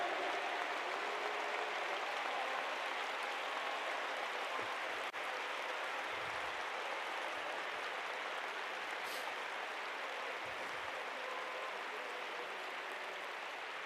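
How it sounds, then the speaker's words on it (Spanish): Steady, even applause from a church congregation during worship, a continuous faint wash of clapping with no voices standing out. "Fuerte, fuerte, fuerte ese aplauso, fuerte esa adoración"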